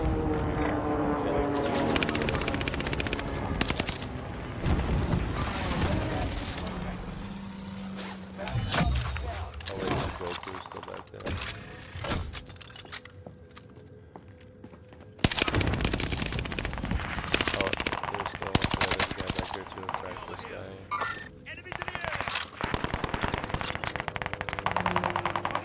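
Rapid automatic gunfire from the Warzone video game on PS4, played at Fortune's Keep, with bursts of shots through much of the stretch and a loud burst again after a brief lull, while players talk over it.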